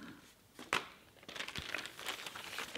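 Plastic baggie holding the assembly tools for an AirForce Condor SS air rifle crinkles as it is handled, with a sharp crackle near the start and softer rustling after, close and fairly quiet.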